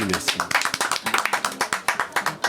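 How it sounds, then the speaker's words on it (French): Scattered clapping from an audience for a jazz guitarist at a live Paris event, several pairs of hands tapping in an uneven rhythm, fairly close and moderately loud, with faint voices and music underneath. "On peut l'applaudir par avance."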